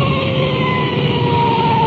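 A police car siren wails steadily while rolling code 3 at night, a loud sustained tone over a low engine rumble.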